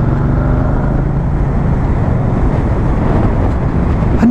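A 2023 Moto Guzzi V100 Mandello rides along the road with a loud, steady low drone of engine and wind rush, constant throughout with no talk.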